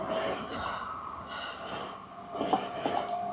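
A train passes a level crossing in Japan, its steady rumble and rolling wagon noise continuing throughout with a few louder clatters toward the end, fairly close and with no talk.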